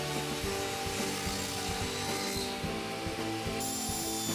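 A power saw with a 1/8 inch blade cutting 1/4 inch plywood for a cabinet door, giving a steady, dense whining drone with rattling mechanical texture throughout.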